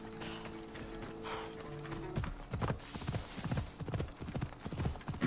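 Horse galloping in the video game Assassin's Creed Odyssey, hooves pounding in a fast, steady clip-clop rhythm, loud and close, with some game music under it.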